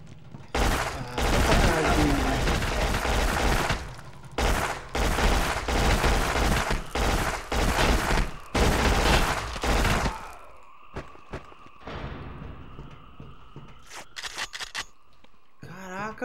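Heavy gunfire in a PS2 game (Black), dense loud shotgun blasts and bursts filling the first ten seconds, then quieter scattered shots and clatter, with sporadic voice sounds.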